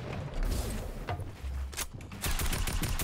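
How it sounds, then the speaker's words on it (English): Rapid bursts of gunfire from the new gun in the Fortnite Battle Royale v9.01 update crackle loudly and repeatedly, with booming shots clustering near the end over a busy game background. "I hear the new gun going off."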